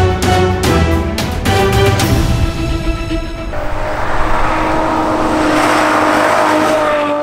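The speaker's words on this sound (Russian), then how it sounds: "Это Феррари. Машина-мечта." A Ferrari sports car drives by loud and close, its engine revving with a bright high-pitched roar that shifts tone partway through, then settles into a steady rumble.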